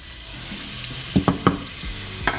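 Salted butter sizzles softly in a pan, a low steady hiss punctuated by a few brief clinks and scrapes of a utensil against the pan, close and without talk.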